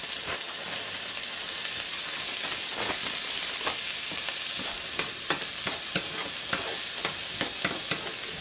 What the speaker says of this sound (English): And I'm just going to saute this.